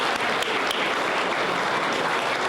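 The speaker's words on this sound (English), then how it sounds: "please clap again for our judges" Audience applause for the judges at a home design award show, a steady, dense clapping that fills the room continuously without pause.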